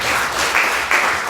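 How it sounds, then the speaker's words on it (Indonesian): A church congregation in Indonesia claps together in a steady, dense wash of applause that runs through the whole brief moment without pause. "Kasih tepuk tangan."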